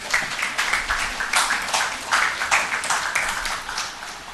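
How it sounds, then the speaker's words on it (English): A group of participants at a medical education workshop applaud another group, steady mid-level clapping from a modest crowd sustained throughout with no talking over it. "So applause to the group"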